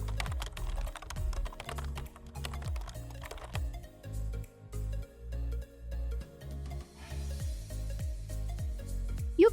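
Typing on a computer keyboard, a run of close, irregular key clicks in short bursts with brief pauses, alone without talk.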